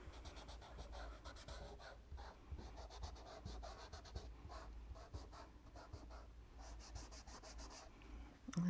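A fingertip rubs and blends soft pastel across paper, giving a steady, faint, dry scraping hiss that continues without a break, with no voices.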